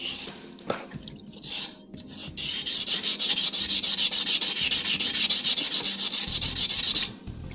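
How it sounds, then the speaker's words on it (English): A Dremel rotary tool cleans pitting on rifle metal, giving a loud, rapid, pulsing grinding rasp up close. It starts with a few short bursts and then settles into a steady rhythmic run before stopping. "I might bring the Dremel in here to clean some of that up."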